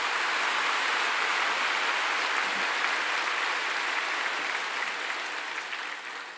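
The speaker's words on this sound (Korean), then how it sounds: "뜨거운 박수로 격려를 해주시고" Warm, sustained applause from a church congregation honoring Sunday school teachers on Children's Sunday, a dense even patter of many hands that holds steady for several seconds before slowly tapering off.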